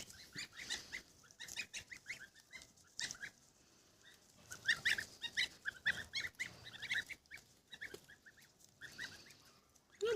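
Geese and goslings at pasture honk and call in scattered bursts, some close and sharp, others softer, with quiet gaps between the noisy flurries.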